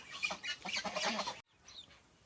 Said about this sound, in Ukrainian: нарешті переселили своїх курчат вже на двір